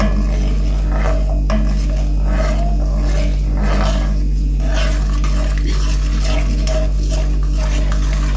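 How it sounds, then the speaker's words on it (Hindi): A spoon stirs salt, sugar and vinegar together in a pan for jalapeno pickle, giving a continuous gritty scraping and swishing in repeated strokes under a loud, steady low hum; no talking. "अब हम इसको मिक्स कर लेते हैं और इसको हम पका लेंगे"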